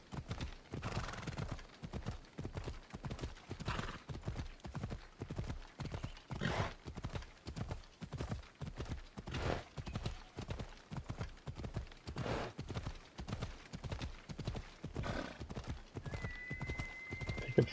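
A horse gallops steadily in Assassin's Creed Odyssey, rhythmic hoofbeats pounding throughout with occasional soft snorts or whinnies and no voices over it.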